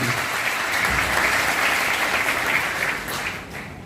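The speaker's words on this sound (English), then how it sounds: "Can we give a round of applause?" A crowd at an Edo State emergency medical services launch event breaks into dense, steady applause that carries on for several seconds before fading slightly.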